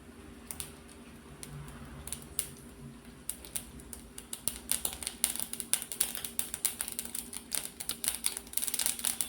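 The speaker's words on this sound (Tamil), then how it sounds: "கடுகு நல்லா வெடிச்சதும்" Dense, crackly popping of mustard seeds spluttering in hot oil, sparse at first then quickening into rapid sharp ticks, close and fairly quiet.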